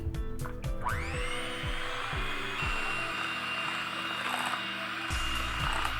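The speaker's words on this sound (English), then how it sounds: "we're just gonna cream this until it's light and fluffy" An electric mixer creams butter and sugar for a Victoria sponge cake, a steady whirring motor drone with rhythmic clunks as the beaters knock the bowl, close and continuous, with no talking.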